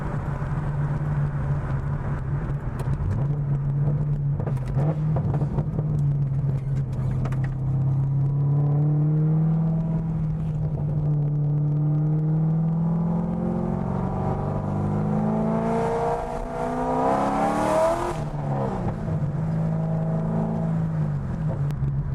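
A cammed C6 Corvette engine drones and rumbles from inside the moving car, its choppy idle-like pulse rising into several revving pulls and easing off again.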